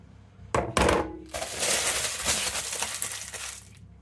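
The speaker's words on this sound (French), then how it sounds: "vous froissez bien votre feuille" A sheet of baking paper is crumpled up close, with a couple of sharp crackles followed by a sustained rustling and crinkling that slowly fades.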